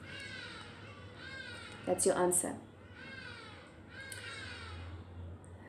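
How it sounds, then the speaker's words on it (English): Crow-like caws from birds outside break in loudly for about a second midway, with a few fainter calls later, heard under a teacher's ongoing talk during a physics lesson. "the birds are showing us they are awake"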